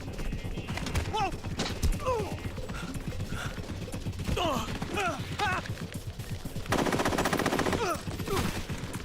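Rapid bursts of gunfire from an action video game ring out over dense game sound, with voices and chatter mixed throughout and a louder sustained stretch of fire near the end.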